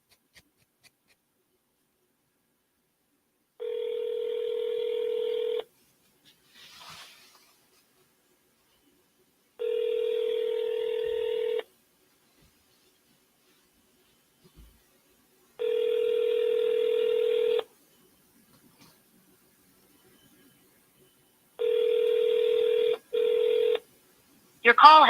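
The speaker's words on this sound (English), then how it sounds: "let's call this first person back" A telephone call placed to return a seller's call: four evenly spaced ringback tones, each about two seconds long, separated by quiet gaps, with brief clicks between and a final short double tone near the end.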